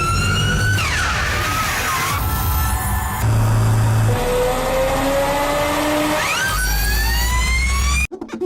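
Loud, high-pitched whine from seven electric motors rises and falls in sweeping pitch changes as an electric car accelerates hard, ending abruptly.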